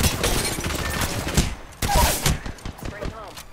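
Rapid bursts of video game gunfire crackle through a battle, sharp shots firing in quick clusters while a player talks over the action.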